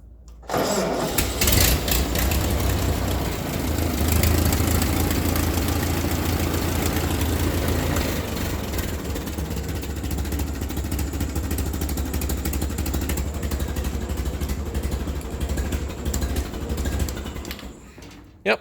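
A Ford 9N tractor still on 6-volt ignition cranks and catches almost at once, then runs steadily at a loud, even idle, its close mechanical clatter continuing for the rest of the clip without talk.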